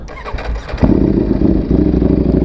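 A warm motorcycle fitted with a loud aftermarket exhaust cranks briefly, then catches and settles into a deep, throbbing idle close by, the low pulsing burble steady and loud with no talking.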